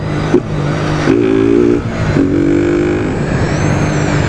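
A 2022 Honda Titan motorcycle revs and pulls away in short bursts with rising engine tones, loud and close, a steady engine drone between the accelerations.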